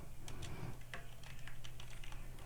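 Quick, steady keystrokes on a computer keyboard while a title is typed into the WordPress block editor, close and fairly soft over a low room hum.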